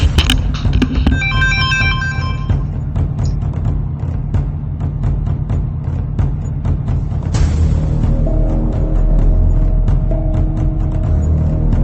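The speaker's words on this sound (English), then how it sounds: "And I'm being phoned, so I was gonna go and answer my phone call." A phone rings with an incoming call during a Grim Wanderings game session, a ringtone in a repeating pattern over the game's background sounds, then a chime near the end, with no talking.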